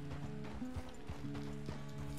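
Horse hooves clip-clop steadily at a walking pace in the Red Dead Redemption 2 video game, close and clear over a sustained tonal background hum.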